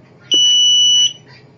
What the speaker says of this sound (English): we've got our buzzer working nicely,